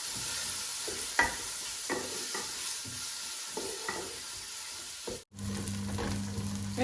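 Chopped onion frying in oil in a pan for a chicken korma, a steady low sizzle broken by scraping spatula strokes at irregular intervals, with a brief pause before the frying resumes more strongly.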